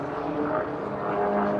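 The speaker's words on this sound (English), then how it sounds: "This is the fastest of the lot, the Winged Williams." The Winged Williams, a light 100-horsepower racing propeller plane, flying past with a steady loud buzzing engine drone, continuous and fairly close with no talk.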